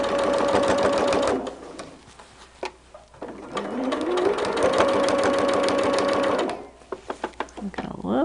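A sewing machine stitches a quilt block in two long whirring runs, with short stops between them and a few light clicks at the end, loud and close.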